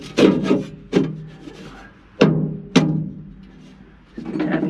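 A washer piece is tapped into place during annual maintenance of a Classic Edge 750, with four sharp, close knocks at irregular intervals and quiet handling noise in between.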